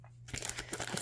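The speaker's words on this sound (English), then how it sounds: "Some of my grungy paper on the back. I love the way that sounds." Grungy paper on the back of a Halloween junk journal crinkles close up, a busy run of crisp rustling and crunching handled by hand.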